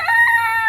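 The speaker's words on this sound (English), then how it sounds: "there's our silky rooster crowing." A silkie rooster crows once in a short, loud, close call with a strained, harmonic tone and no other sounds around it.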